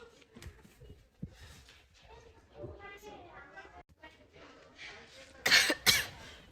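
A person sick with fever and a sore throat coughs, with a couple of sharp, harsh coughs near the end following earlier talking.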